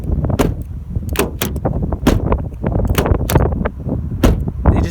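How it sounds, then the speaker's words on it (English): A family sedan's doors shut again and again with thin, tinny slams, a quick series of sharp, loud knocks at close range with no one talking. "these doors sound so tin canny"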